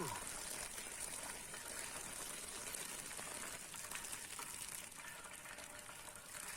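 Water pours off cooking fly agaric mushrooms steadily in a continuous, splashing gush, moderately close, with no talking.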